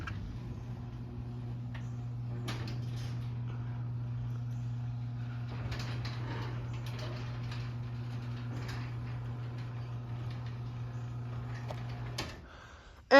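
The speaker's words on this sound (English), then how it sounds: "we'll run the Chamberlain door again" Chamberlain C2102 garage door opener running the door with a steady low mechanical hum and faint rhythmic ticking for about twelve seconds, then stopping with a clunk.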